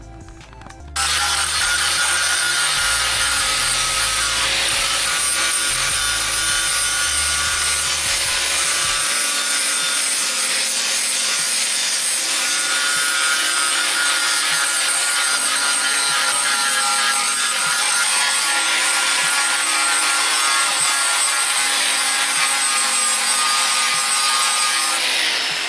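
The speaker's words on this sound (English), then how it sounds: "I got a flap disc on it, and I'm finna grind all this down to metal." Angle grinder fitted with a flap disc grinding the painted surface of a dented motorcycle gas tank down to bare metal, a steady loud abrasive whir with a constant pitch that runs unbroken after a brief startup.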